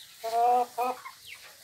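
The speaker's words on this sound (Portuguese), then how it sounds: "Bem só o tanto de galinha aqui no quintal." Backyard chickens give two short clucking calls nearby, fairly soft, with a quiet pause between them.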